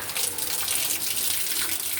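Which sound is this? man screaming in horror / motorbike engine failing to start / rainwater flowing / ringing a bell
rainwater flowing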